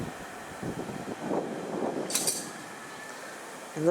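Clicks from the track and signals on the London Underground Central Line, heard as faint irregular ticks and a sharp metallic clink over the constant rumble and rush of a moving train.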